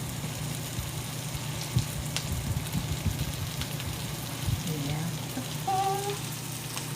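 Brussels sprouts sautéing in butter with browned garlic over medium heat, a steady soft sizzle and crackle running throughout with a low hum beneath.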